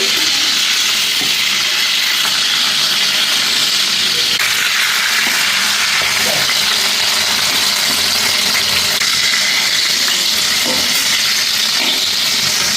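Bangude mackerel fish fries in a pan, coated in green masala, giving a loud, continuous close-up sizzle and hiss with scattered faint clinks.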